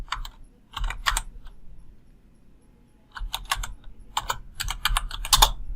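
Fingers tap away on a computer keyboard in two clusters of quick, crisp keystrokes separated by a short pause, close up and clear, with no voices.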